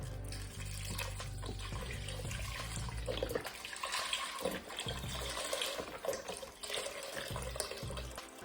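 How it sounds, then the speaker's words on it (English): Tap water runs into an empty chicken broth carton, a close gushing stream whose low hollow filling tone stops partway, leaving a lighter splashing and trickling sound for the remainder. "I filled the box up halfway with water"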